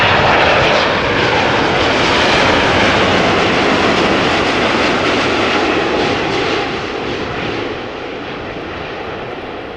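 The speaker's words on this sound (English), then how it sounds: "7879 Dreamliner arriving from Cartagena" A Boeing 787-9 Dreamliner arriving from Cartagena roars loud and close with a broad, continuous engine noise that eases off slightly toward the end.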